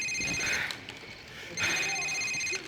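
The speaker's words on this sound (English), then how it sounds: "Assad remains silent, but he gets a phone call." Cell phone ringing in a Call of Duty video game cutscene, two bursts of a trilling electronic ring separated by a short pause, fairly close, with faint background ambience.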